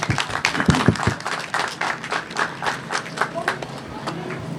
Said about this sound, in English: So I'd like to give them a big round of applause